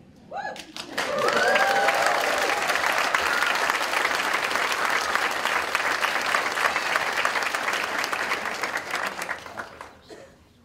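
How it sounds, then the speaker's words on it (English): Graduates at a 2017 conferring ceremony burst into loud sustained applause and cheering after a brief pause, the crowd clapping densely for several seconds before fading out near the end. "Give yourselves the biggest cheer that you can."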